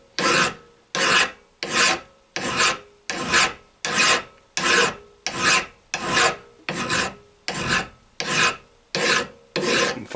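A metal hand file rasps a chamfer along a workpiece in about fourteen evenly spaced, close strokes, each a bright scraping burst separated by short silences, with no voices.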